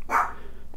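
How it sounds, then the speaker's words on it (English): A single dog gives one sharp, close bark that fades quickly, followed by a quieter, low background with a faint short sound near the end. "So I'm very happy to hear her barking and not coughing"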